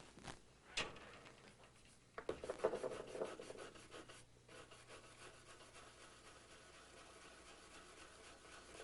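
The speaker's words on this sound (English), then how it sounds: "If I put this in and scrub, let me try with the brass brush first." A soft-bristled brass brush scrubs tarnished brass or copper pieces being antiqued, giving quiet rasping, rubbing strokes with a brief sharp scrape near the start.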